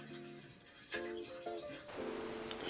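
Water poured into newly fitted bathroom pipework for a leak test, splashing and trickling in short bursts with bright, gurgling tones as it runs through the pipes.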